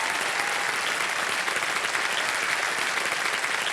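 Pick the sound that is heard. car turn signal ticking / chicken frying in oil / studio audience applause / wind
studio audience applause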